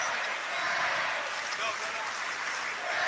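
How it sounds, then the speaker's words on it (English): Basketball crowd at an NBA game between the Oklahoma City Thunder and Los Angeles Clippers applauds and cheers for Terance Mann, a steady dense wash of clapping and voices at moderate distance, continuous throughout. "And Terrence Mann getting a big round of applause and some cheers from the wall to our right."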